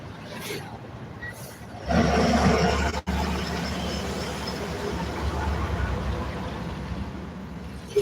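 A large truck carrying aviation fuel passes at night, its heavy roar rising abruptly and rumbling on steadily, heard up close from a vehicle on the road.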